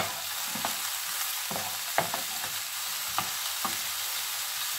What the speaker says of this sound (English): you're going to cook the onion with the peppers until they're soft